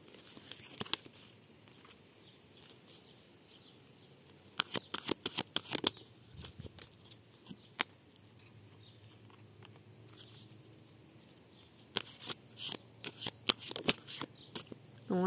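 Tarot cards shuffled and drawn by hand, giving bursts of soft riffling and snapping card flicks in clusters with quiet pauses between, close and fairly faint, no talk.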